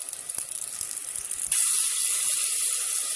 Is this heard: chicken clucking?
no